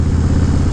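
Motorcycle exhaust fitted with Short Shots pipes and quiet baffles on a first ride, giving a steady, deep, low rumble that runs loud and close throughout with no talk.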